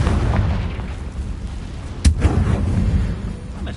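A Confringo fire spell blasts in the video game Hogwarts Legacy, landing as one sharp booming explosion over a rumbling battle background.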